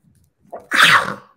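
A single loud sneeze, a short sharp intake followed by an explosive burst, close and alone.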